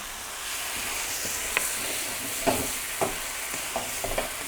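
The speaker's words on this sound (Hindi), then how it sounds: "उसके बाद मैं इसको थोड़ा सा मिक्स कर रहा हूँ" Carrots and corn being stirred in a hot pan for Mexican rice: a soft continuous sizzle with a few sharp spoon scrapes and clinks scattered through, fairly close and with no voices.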